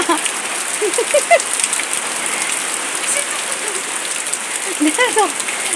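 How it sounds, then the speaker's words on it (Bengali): Heavy monsoon rain pours down in a dense, steady hiss of drops on surfaces, with voices talking faintly underneath. "কি বৃষ্টি পড়ছে রে বাবা"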